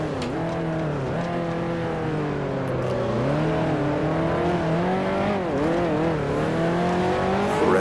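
A 1955 Formula One race car in Grand Prix Legends at the Monaco Grand Prix holds a loud, steady engine howl, its pitch dipping and climbing as the throttle is worked through slides and corners.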